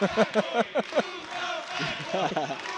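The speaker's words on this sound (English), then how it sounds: "He's got the whole fan section yelling it too." A basketball fan section at a high school boys' game yells in loud rhythmic bursts, then a rougher crowd roar follows.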